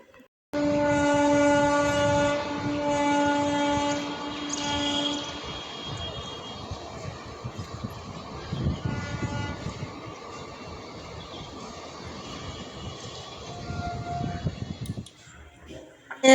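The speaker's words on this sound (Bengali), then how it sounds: "লোকাল ট্রেন যাচ্ছে এটা লোকাল ট্রেন" A local train rolls past for a long stretch, opening with a loud, sustained horn blast of several tones, then a rumbling, clattering wagon noise that swells and fades, ending quietly.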